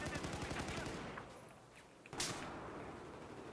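Rapid gunfire in the video game Battlefield 4 rattles in quick bursts, dropping to a lull before another sharp burst of shots, with a faint voice in the background.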